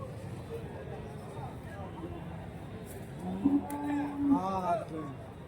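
A cow moos a couple of times amid a noisy outdoor crowd at a cattle market in Santhipuram, with people talking in the background throughout.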